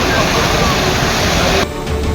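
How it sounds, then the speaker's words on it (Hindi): Floodwater rushing across a state highway in rural Jaipur during heavy rain, a loud, steady broadband roar of flowing water that drops slightly near the end, with no voices audible. "जयपुर ग्रामीण इलाके में स्टेट हाईवे पर पानी बह रहा है।"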